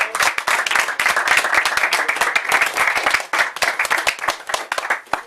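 Lively applause from a room of people at a VEMMA/Verve business meeting, dense and continuous at first, then thinning into scattered claps before fading out.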